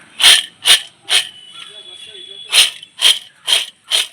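Crisp, flaky fried nimki snacks are snapped apart by hand, close and loud. Three sharp crunches come in a quick row, then a short pause, then four more at an even pace.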